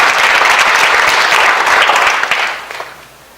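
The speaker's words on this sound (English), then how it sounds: "so a round of applause for it." Loud, dense audience applause at the opening of a Jewish Refugees in Shanghai exhibit, sustained then tapering off near the end.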